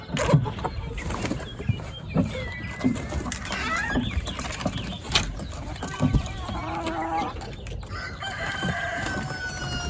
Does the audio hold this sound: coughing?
no